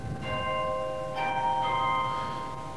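Carillon stop on a Wurlitzer style 260 theatre organ, Opus 1813, played from the solo keyboard: sustained bell-like tones ring out steadily with a couple of fresh strikes partway through, fairly close and alone.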